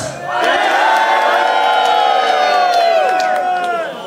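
A crowd at a freestyle rap battle final lets out a loud, sustained roar of shouting and cheering that swells quickly, holds for several seconds and then tapers off.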